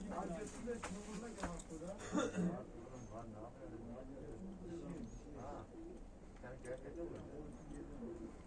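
Pigeons coo in low, soft, repeated calls close by. The bird is a 3.5–4-year-old blue breeding male offered for adoption, and someone talks continuously over the cooing.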